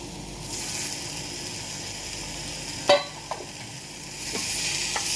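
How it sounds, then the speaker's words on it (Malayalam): Tomato chutney cooking in a pan, a steady sizzle of frying under a few sharp scrapes of a spoon stirring, close and moderately loud with no talking. "അത് നന്നായിട്ട് ഇളക്കി യോജിപ്പിക്കാം"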